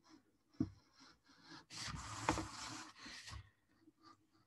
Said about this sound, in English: I'm just cutting through a single page, so it's not super thick.